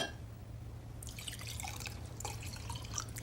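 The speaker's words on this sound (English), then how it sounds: "fill one with water that's room temperature," Room-temperature water runs into a drinking glass, a faint trickle and patter of drips that starts after a quiet moment and continues steadily, with no talking.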